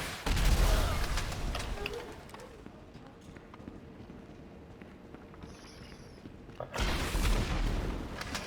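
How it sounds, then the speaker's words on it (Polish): Rocket-launcher blasts and explosions from a video game burst out loud and rumbling at the start, fade to a quieter stretch of game noise, then return with another heavy blast near the end. "Dwa strzały z RPG i po nim."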